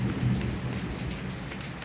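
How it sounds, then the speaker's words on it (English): Steady heavy rain pours outside, a dense continuous hiss with a low rumble underneath, fairly even in loudness throughout. "It's raining outside heavily."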